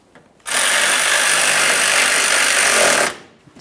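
A power tool runs in one steady, loud burst of about two and a half seconds while snugging the forward mounting bolts of the windshield washer reservoir on a 2012-2015 Honda Civic, starting and stopping abruptly.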